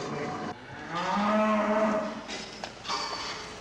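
Cows on a dairy farm in Emilia, Italy, let out one long, loud, drawn-out moo close by, followed by softer lowing and farmyard noise.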